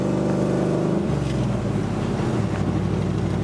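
A 2001 Pontiac Trans Am WS6 cruises in fourth gear, its V8 giving a deep, continuous engine drone heard from inside the car, steady and fairly loud with slight shifts in pitch and no talk.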